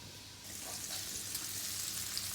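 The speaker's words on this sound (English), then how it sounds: "in an oven-proof pan, I have got some diced bacon, which is going to start cooking" Diced bacon frying in an oven-proof pan, a steady close crackling sizzle that holds evenly throughout with no talk.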